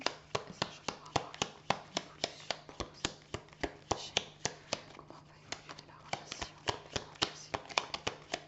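Tarot cards being shuffled by hand, a steady run of crisp, rapid flicks and taps repeating roughly every third of a second, close and fairly soft, with a faint voice underneath.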